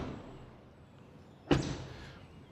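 A single solid thud of a car door shutting on an electric luxury SUV, a BMW iX3 or Mercedes GLC EQ, close by and sharp, fading quickly into a quiet background with no talking.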